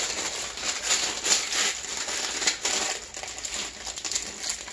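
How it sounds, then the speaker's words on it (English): Hard plastic packaging is pulled and torn off a cardboard box at close range, giving a continuous run of crackling, crinkling and snapping that rises and falls in bursts for several seconds with no talking. "lesson in how not to take plastic off"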